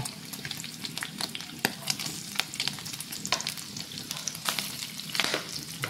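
Pork for pork pigado browns in plenty of oil, crackling and sizzling densely and loudly up close, with frequent spatula scrapes and stirring clatter running all the way through and no talking.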